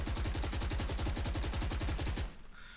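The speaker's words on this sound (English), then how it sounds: "So I guess let's start shooting from this bottom brick" A Phantom rifle in Valorant fires a steady, rapid full-auto burst at a wall for about two seconds, loud and close, then cuts off into a brief fading tail.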